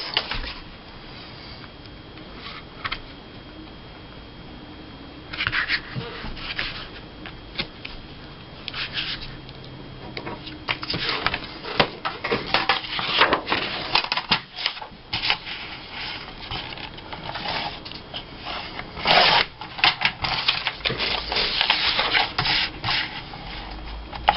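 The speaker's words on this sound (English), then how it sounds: "So I'm going to trim that down to size." Scrapbook paper is trimmed to size with repeated scraping, sliding and cutting strokes, close and irregular, growing busier and louder in the second half with rustling paper handling.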